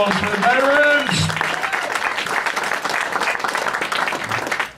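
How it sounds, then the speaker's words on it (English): A comedy club crowd applauds United States veterans: steady, full clapping from the audience, with a voice whooping over the opening moments before the applause carries on alone. "Round of applause for the veterans!"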